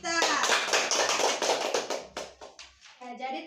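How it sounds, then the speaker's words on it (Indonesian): Children clapping hands in a classroom, a loud rapid burst of many close claps that slows into a few scattered claps, with a voice speaking at the end. "Tepuk tangan untuk kita."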